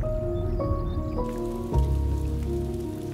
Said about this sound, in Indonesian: Datanglah hujan untuk pertama kalinya sejak sekian lama